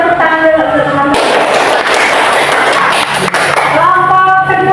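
Classmates applaud in a school religion class, a burst of dense clapping that fills most of the stretch and fades as a teacher's voice returns.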